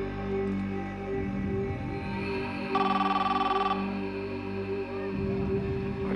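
Indoors in a tense crime drama scene, a telephone rings in a rapid electronic burst for about a second, set against a steady droning music bed with no voices.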